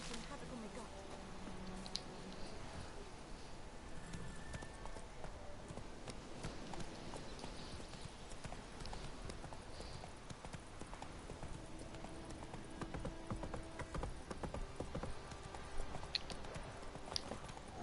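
Hooves of the horse Roach in The Witcher game clip-clopping steadily at a trot, a continuous faint rhythmic patter under low ambient noise with occasional talk.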